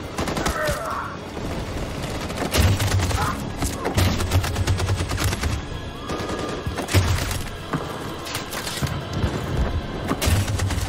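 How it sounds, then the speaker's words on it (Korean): Machine gun fire in Detroit: Become Human during a battle assault, sustained rattling bursts with heavy thuds recurring across the stretch, under occasional shouting voices. "That machine gun is taking down everything."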